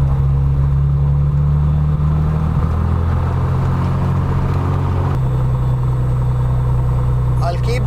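Propeller aircraft engine running at low, steady power just before shutdown, a loud continuous drone with a strong low hum throughout, under a voice talking.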